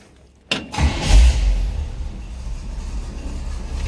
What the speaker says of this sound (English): Let's go ahead and fire this thing up so you can hear it run.